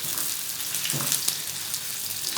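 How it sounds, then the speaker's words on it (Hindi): Onions frying in hot oil for chicken haleem, a steady dense sizzle that carries on without a break from start to finish, close and fairly soft, with nobody speaking. "तो आज मैं आपको तरीका बता रहा हूँ कि प्याज को आप कैसे फ्राई करते हैं।"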